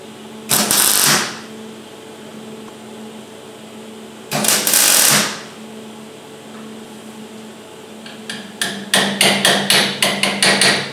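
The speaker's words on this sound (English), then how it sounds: "Spot welding the new mount to place." Spot welding a new steel mount in place on a Super 7 Locost kit car build, heard as three short crackling bursts followed by a quick run of rapid, evenly spaced zaps, fairly close and with no talk.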